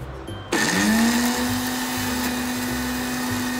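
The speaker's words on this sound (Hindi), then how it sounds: "अब हम इसको ग्राइंड करेंगे।" A mixer grinder whirs to life and runs steadily, grinding eggless, sugar-free mayonnaise ingredients in a home kitchen, a loud close motor whine with no talking over it.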